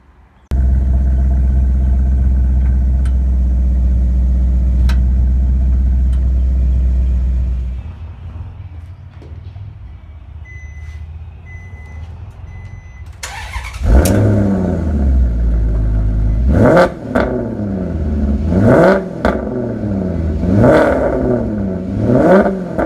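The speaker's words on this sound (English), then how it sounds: "So that was the exhaust sound with the valves closed." A Maserati GranTurismo exhaust with the valves closed idles loudly, drops quieter, then revs in several rising and falling bursts, each swelling and fading in a steady rhythm close by.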